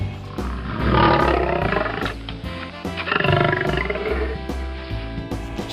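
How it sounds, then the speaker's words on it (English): A lion roars loudly and close in a deep, drawn-out animal roar with rumbling low growls, heard on its own without talk. "very dangerous lion, guys."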